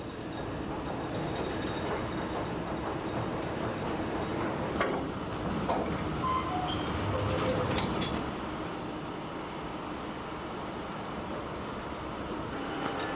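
Peat railway wagons in Ireland rumbling one at a time into a tippler, a continuous broad mechanical roar with scattered metallic clanks and squeals, no voices.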